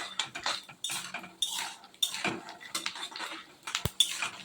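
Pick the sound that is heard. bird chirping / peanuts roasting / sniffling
peanuts roasting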